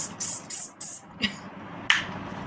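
Four quick bursts of fine sunscreen mist spray in a row, then a couple of clicks, close and crisp with no talking.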